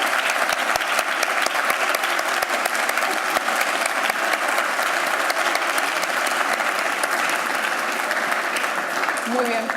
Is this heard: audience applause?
yes